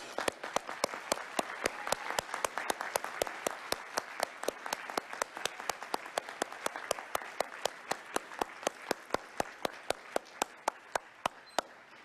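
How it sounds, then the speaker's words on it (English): A university graduation audience applauds family and friends in a large hall, sustained crowd clapping for about twelve seconds with a sharp, regular tapping beat running through the dense applause. "everybody's hands are really sore now from doing a great deal of applauding"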